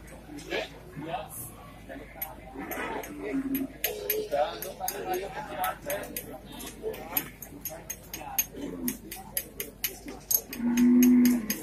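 Water buffalo moo repeatedly at a crowded livestock market in Bumiayu, Brebes, with a long loud low bellow near the end, amid clattering and people talking.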